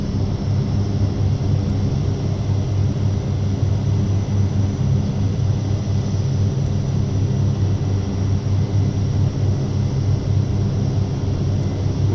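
A Shorts 360 twin-turboprop airliner drones steadily in flight, a loud, unbroken engine hum with a low rumble and faint high whine holding even throughout, no talk over it.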